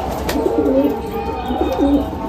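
Madrasi pigeons coo in a low, burbling rhythm, several soft rolling calls repeating close by over a steady background hum.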